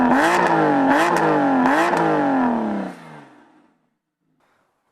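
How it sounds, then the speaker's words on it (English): An Aston Martin Vanquish engine fires up and rises in a few sharp revs, loud and close, then cuts off and falls silent. "what's totally positive is the sound when you hit the starter"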